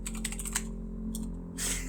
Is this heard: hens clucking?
no